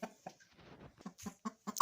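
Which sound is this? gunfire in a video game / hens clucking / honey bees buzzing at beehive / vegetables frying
hens clucking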